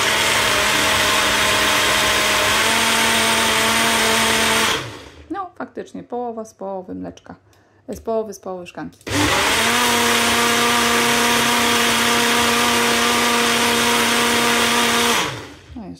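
A kitchen blender whirs loudly and steadily as it mixes a milk smoothie, running in two long bursts of several seconds each, with a short stretch of conversation in the pause between them.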